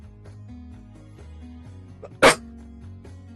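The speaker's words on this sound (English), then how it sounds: "Speaking of coughing, my bad." A single sharp cough cuts in loudly and briefly during a Yu-Gi-Oh! Master Duel stream, standing out over quiet background game music.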